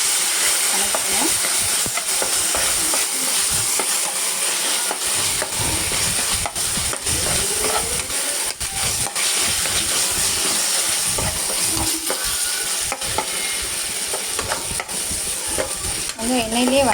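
Ginger, garlic and green chili paste sautéing in hot oil, a loud, steady sizzle running throughout with repeated close scraping and stirring strokes of a spoon against the pan.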